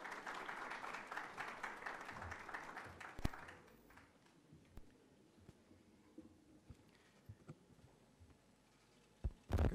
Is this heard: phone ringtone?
no